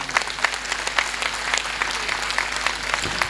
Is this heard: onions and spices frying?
no